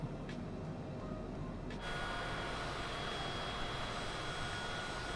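A Cessna Citation CJ4 business jet's engines spool up as throttles are advanced in a flight simulator game, a steady broadband turbine roar that swells louder partway through and then holds constant, with no talking.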